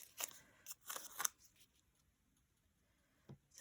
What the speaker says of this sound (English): And then I'm going to trim the side of it.